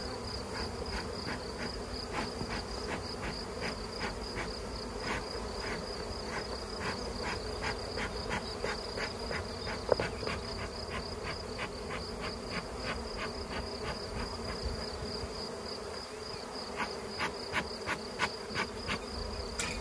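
Honeybees around a hive: a constant insect buzz hums in the background with rapid pulsing chirps layered over it, steady and moderately faint for the whole stretch.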